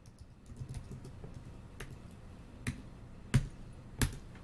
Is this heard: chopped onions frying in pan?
no